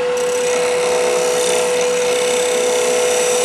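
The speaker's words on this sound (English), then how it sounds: "now I'm rubbing bevel, and I'm going to open the tool a little bit by cranking it" A woodturning tool cuts spinning wood with its bevel rubbing, producing a loud, steady, unbroken hiss and whir from a nearby lathe, with no speech.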